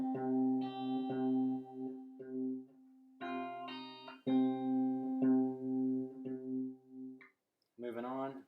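Fingerstyle acoustic guitar picks out a section of a song, with repeated plucked bass notes on open strings and brighter chord stabs in a steady pulse; a brief voice enters at the very end.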